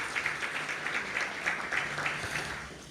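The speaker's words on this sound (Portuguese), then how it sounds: "Nós queremos recebê-los com um aplauso" An audience welcomes a couple with applause at a motivational talk: sustained, moderately loud clapping from a crowd in a hall, slowly tapering toward the end.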